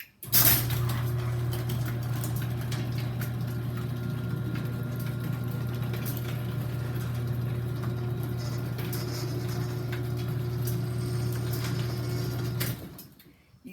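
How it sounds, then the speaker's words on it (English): Chamberlain C203 garage door opener raising a door, a steady loud motor hum with a continuous low drone and faint rattling running for about twelve seconds, then stopping abruptly. "So watch the door when I put it up. So here it goes up."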